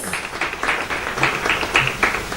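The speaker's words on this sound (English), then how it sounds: "let's give Madam a big round of applause" An audience at a live-streamed event claps for a speaker, a burst of mid-loud applause with several distinct clap peaks over a couple of seconds.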